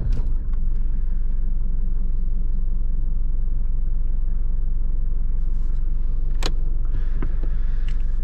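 A Mercedes W124 200D diesel engine catches at once and settles into a steady, close, low clattering idle rumble, with a sharp knock late on.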